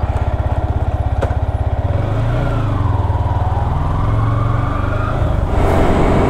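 A Yamaha R15M single-cylinder motorcycle engine idles with a loud, rapid thumping pulse, then revs up and pulls away with a rising, wavering engine drone.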